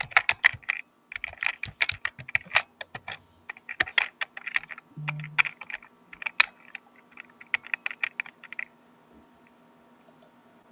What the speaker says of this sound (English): I always gotta type it in.